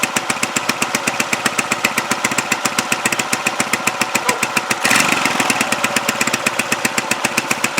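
Huoniao HN125 motorcycle engine idling steadily with a rapid, even single-cylinder pulse, close and loud, with a brief rough surge midway and no talk.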